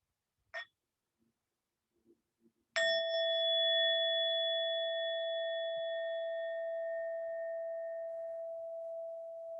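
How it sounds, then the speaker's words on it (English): A meditation bell rings once to close a sitting session, its clear tone ringing out loud and alone after a few faint sounds, then sustaining and slowly fading over several seconds in a quiet room. "And with the sound of the bell, we'll bring this meditation to a close."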